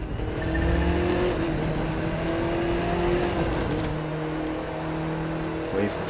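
Engine drone of a car driving in The Crew 2 racing game, a steady motor hum with shifting tones running the whole time beneath someone talking.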